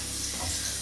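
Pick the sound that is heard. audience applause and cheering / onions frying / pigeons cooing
onions frying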